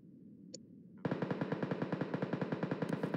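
Gunfire in PUBG on the Livik map: after a single faint shot, a rapid automatic burst of about twenty evenly spaced shots rings out, loud and sharp, with no talk over it.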